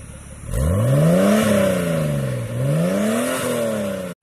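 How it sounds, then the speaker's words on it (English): A 1999 Nissan Skyline R34 with automatic Tiptronic transmission revs up sharply from idle, climbing and falling twice in loud close sweeps before cutting off. "Rev it up!"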